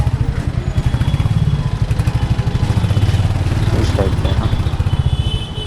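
Motorbike ridden through the streets of Rishikesh, its engine thumping in a steady, close, loud rhythm throughout while the rider talks over it.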